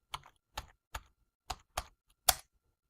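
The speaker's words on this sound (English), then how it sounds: "I'll click on insert function, type in maximum" Six separate clicking keystrokes on a computer keyboard sound close and crisp at uneven intervals, with silence between them and no speech.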